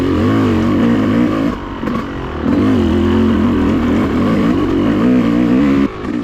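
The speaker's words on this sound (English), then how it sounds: "this two-stroke, man. This thing is so fun to ride." A two-stroke enduro motorcycle at the Cherokee National Enduro revs loudly and steadily, its buzzing engine note rising and falling with a brief dip partway through, with no talking.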